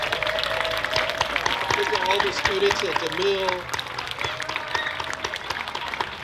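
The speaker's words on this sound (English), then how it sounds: "will you please stand so we could applaud you for all you do?" An audience at an anniversary celebration with student performances applauds students, steady dense clapping filling the room throughout while a speaker's voice continues over it.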